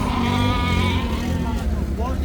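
Sheep bleat at a crowded livestock market in Samarkand, their wavering calls rising over a dense background of voices and general market noise.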